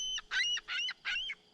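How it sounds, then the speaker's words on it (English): A seagull calling on a remote Canadian beach, four harsh, honking cries in a rhythmic series, fairly close and clear against a quiet background, with no talking. "Seagull's hungry too."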